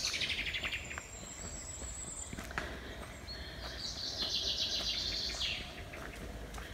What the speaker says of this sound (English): And you can hear the sounds around you, the birds singing.